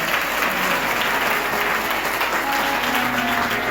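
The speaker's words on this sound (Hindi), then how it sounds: "ताली बजाओ, जोरदार जोरदार ताली बजाओ।" A church congregation claps loudly and continuously, a dense sustained wash of applause with no pauses.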